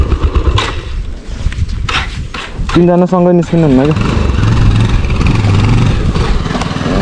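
An NS 200 motorcycle engine roars close by, loud and rough with surging revs, while someone speaks briefly over the noise.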